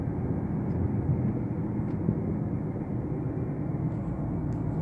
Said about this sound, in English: There's two more fighter jets in the sky up there.